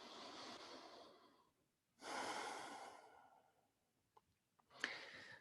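Slow, deep breaths during a yoga pose: a long soft exhale, a pause, then a fuller breath in and out, followed by a few faint clicks and a short sharp intake of air, all quiet and close with no talk.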